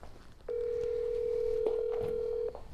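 A telephone dialing, one long steady tone held for about two seconds, sounding clearly over faint background noise with brief clicks before and after.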